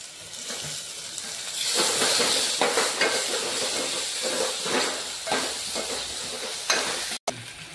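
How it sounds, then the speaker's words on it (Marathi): Tomatoes added to a pan with ginger-garlic paste hiss and sizzle steadily as they fry, with loud bursts of steam and occasional stirring scrapes throughout, close and continuous with no talking. "आता आपण याच्यात टोमॅटो घालून घेऊ।"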